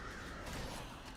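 Crows summoned by a hunter ability in World of Warcraft: Shadowlands caw in a brief, harsh, noisy burst that fills the moment at a low overall level.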